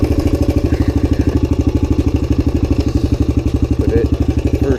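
A Suzuki DR-Z 125 pit bike engine runs close by with a loud, rapid, even thumping putter, the single-cylinder beat pulsing steadily for several seconds with slight revving near the end.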